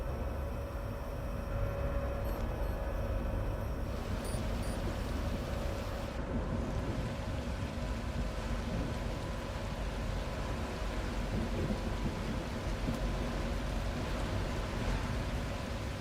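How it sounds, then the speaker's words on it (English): Rain falls at night in the video game The Last Caretaker, a soft continuous wash of noise with faint low rumbles of distant thunder. The sound stays quiet and even throughout. "it seems like it's night and raining all the time"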